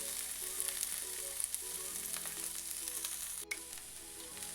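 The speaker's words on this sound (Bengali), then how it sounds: "সর্ষেটা খুব ভালোভাবে ফুটে ওঠার পরে আমি এগুলোকে মিশিয়ে নিচ্ছি" Chopped capsicum and grated carrot stirred into spluttering mustard seeds in a pan for an oats tiffin, a steady close sizzle with light stirring and a brief dip near the end, no talk.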